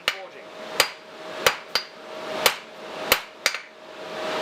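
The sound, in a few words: hammer forging and planishing a blacksmith punch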